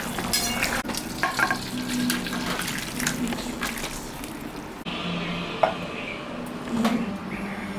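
Phali fish going into a boiling thin curry with ridge gourd and pointed gourd, a steady bubbling sizzle with a few sharp splashes and clinks of a utensil, close and continuous, no talking.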